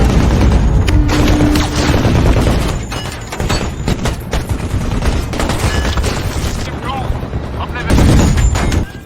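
Heavy gunfire in a fierce film battle set in a mined desert: dense volleys of shots and booming blasts overlap continuously, loud and close, with a fresh burst near the end.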